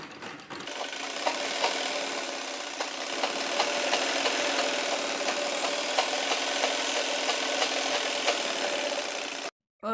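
A sewing machine runs continuously, stitching buckram onto a Patiala salwar hem, with a close, steady rapid mechanical whir and ticking needle rhythm that cuts off abruptly at the end.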